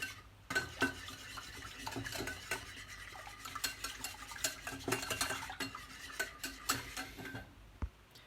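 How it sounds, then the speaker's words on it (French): Cream, whole eggs, an extra yolk, salt, pepper and nutmeg are whisked together for a quiche Lorraine filling, giving a steady run of quick clicking and tapping strokes against the bowl, close and fairly loud, with no talking. "On va mélanger tout ensemble à l'aide d'un fouet."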